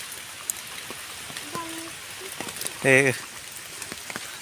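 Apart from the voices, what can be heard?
rain falling in mountain jungle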